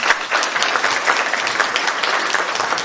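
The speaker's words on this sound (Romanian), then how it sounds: "aplauze pentru oaspeții dumneavoastră, oaspeți de seamă" Loud, sustained applause from a crowd honoring distinguished guests at the inauguration of a village cultural hall in Talpa, Romania, with many hands clapping at once in a thick, even roar.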